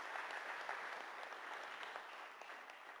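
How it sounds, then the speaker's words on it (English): Steady round of audience applause at a community hearing in Hobbema, Alberta, a continuous wash of many hands clapping, moderately distant and fairly faint, with no voices over it. "Let's give them a nice round of applause anyway."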